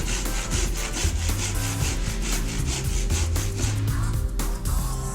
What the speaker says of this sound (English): A second parallel saw cut will make chiselling the joint out much easier.